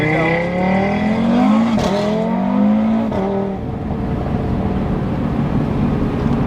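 A tuned Audi RS3 on E85 accelerates hard from a light, engine pitch climbing steeply through the gears with loud close exhaust, then settling into road and wind roar.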